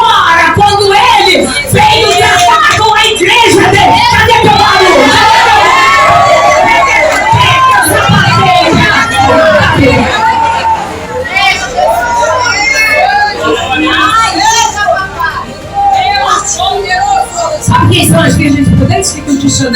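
A church congregation shouts and cheers loudly and continuously, a dense roar of many voices with yells rising and falling throughout.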